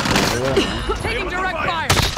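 Gunfire in a Call of Duty video game, a sharp burst of shots cutting in near the end after stretches of in-game voice callouts and chatter.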